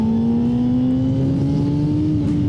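A 2024 Honda CBR600RR motorcycle engine revs on a wet track, a strong steady drone whose pitch climbs slowly and evenly, loud and close with no speech.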